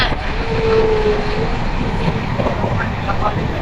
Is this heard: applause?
no